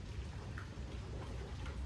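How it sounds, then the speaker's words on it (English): Rain falling outdoors on a quiet morning, a faint, steady pattering hiss with no distinct drops standing out and no talking. "The rain is kind of just like pitter pattering down"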